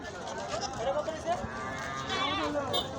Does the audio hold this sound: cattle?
yes